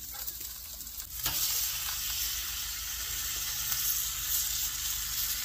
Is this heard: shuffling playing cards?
no